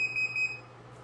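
A high, steady electronic warning tone sounds as a rapid series of short pulses for about half a second over low hum, signalling an exceeded weight limit.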